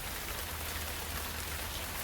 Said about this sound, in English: as the rain continues to fall outside